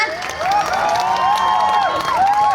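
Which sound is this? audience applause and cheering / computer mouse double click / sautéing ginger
audience applause and cheering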